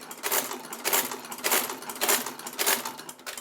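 A sewing machine whirs and clatters in quick bursts, its mechanical rattle rising and falling at close range with no talking.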